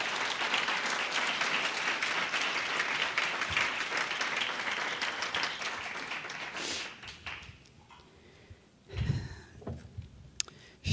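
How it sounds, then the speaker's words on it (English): Audience applause at a memorial gathering, honoring a 12-year-old son; moderate clapping for about seven seconds, then it fades to near silence broken by a few scattered sounds. "Let's give him a big round of applause."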